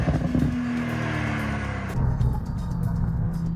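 A Porsche Carrera S rear-wheel-drive supercar drives past, its engine rumbling and climbing in pitch before the tone shifts as it moves on. The engine is close and the sound is muffled, with no talking.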